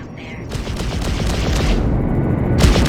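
Ship guns firing in the space game Freelancer, a loud, continuous rapid volley of shots that swells toward the end.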